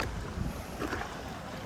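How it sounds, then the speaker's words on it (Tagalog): Choppy sea waves off a Vancouver beach, heard from a small rental boat: a rough, churning water wash buried under heavy wind buffeting the microphone, with no speech. "Grabe ka alon, no?"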